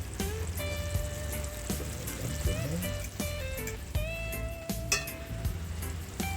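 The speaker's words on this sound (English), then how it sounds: "I start frying my dumplings over here" Jamaican fried dumplings sizzling steadily in hot oil, a continuous crackling hiss with occasional tonal squeaks and clinks from nearby utensils.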